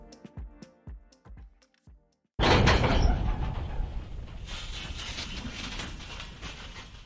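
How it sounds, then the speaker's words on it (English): Large hangar doors pulled open: a few hollow knocks and clunks, then a loud sustained rumbling roll as the doors slide along their track, easing off but continuing to the end. "let's pull these hangar doors open"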